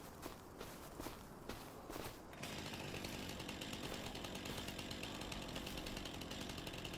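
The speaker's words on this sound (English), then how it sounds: "not me going crazy with my chainsaw" Chainsaw cutting in Farming Simulator 25, a steady buzzing engine drone that starts after a couple of seconds of footsteps and holds loud and continuous to the end.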